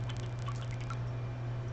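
Water poured into a clogged gun barrel, small trickling drips and liquid squishes over a steady low electrical hum, close and fairly quiet.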